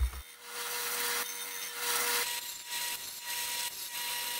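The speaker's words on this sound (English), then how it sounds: "I can head over to my disc sander and sand the wedge and top nice and flat" A disc sander flattens the wedge and top of a wooden mallet with a steady motor hum and a repeating rough, scratchy rasp as the wood is pressed against the disc, fairly quiet and close.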